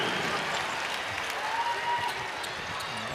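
Crowd at a Boston College vs. Louisville ACC women's basketball game applauds in a steady, lively wash of clapping, with a commentator talking over it throughout.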